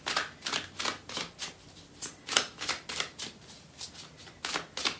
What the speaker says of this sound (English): Pull from my deck, the Mystical Flames Oracle deck by me.